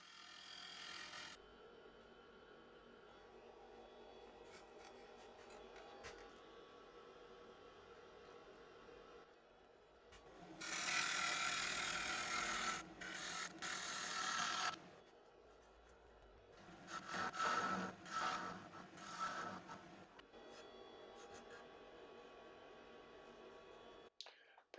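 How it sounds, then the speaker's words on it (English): A negative rake scraper cuts on a small natural-edge wooden bowl spinning on a lathe, giving bursts of loud hissing scraping between quieter stretches of the lathe's steady hum. "I decided to use a negative rake scraper just to finish off the bottom and blend it in to the sides."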